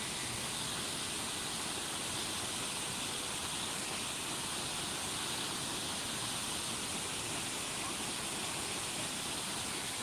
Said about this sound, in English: It's a Smurfing waterfall over here.